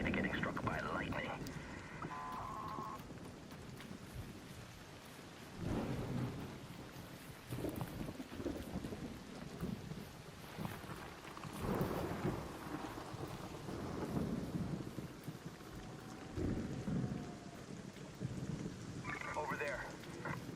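A video game thunderstorm rolls on with steady rain and rumbling thunder, punctuated by sharper cracks and brief game chimes, while a voice talks over it at times.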